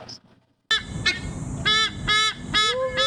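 Goose-like birds honk repeatedly in a wildlife park in Quezon City, a series of loud, nasal calls in quick bursts following a brief quiet moment, close by with no talking.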